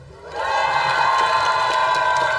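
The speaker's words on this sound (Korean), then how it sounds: "민수 형이 오늘 좀 보니까 잘생겼다 박수." A crowd at an outdoor Daeboreum folk festival concert in Cheongdo breaks into loud, sustained cheering and shouting. The noise swells quickly after a quiet start and then holds at full strength.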